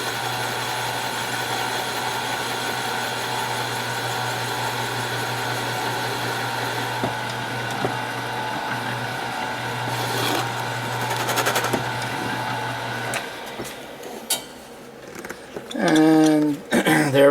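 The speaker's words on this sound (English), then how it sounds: "you are drilling in hardwood, so there's no need to overheat the drill bit" A drill whirs steadily as it bores into hardwood, a constant high motor whine with a grinding edge, easing off and sputtering near the end.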